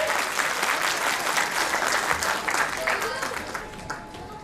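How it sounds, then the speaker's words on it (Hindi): Audience applause at a school annual function, a dense, continuous burst of many hands clapping, loud and steady, with faint crowd voices underneath. "एक बार फिर से तालियां हो जाए"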